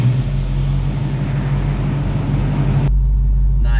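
Chevrolet Chevette fitted with a V8 engine, a deep, loud, close rumble held steady and revving, continuing as a strong low drone after the surrounding noise drops away, with a brief voice near the end.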